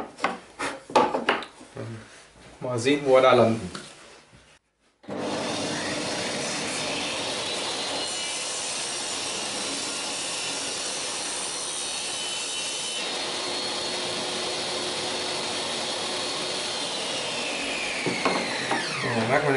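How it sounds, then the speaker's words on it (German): Handsaw cutting through a small wooden board while building a homemade phone holder, a steady, loud rasping stroke that runs continuously for about fifteen seconds after a few brief spoken words and short scraping sounds. "So, und dann sägen wir das auch mal durch."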